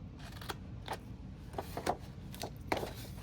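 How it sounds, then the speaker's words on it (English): Scissors cut paper at an angle for a slimline envelope, a series of soft, crisp snips spaced irregularly and heard up close and quiet. "I'm cutting at an angle up to the score mark"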